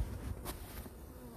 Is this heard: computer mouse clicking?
no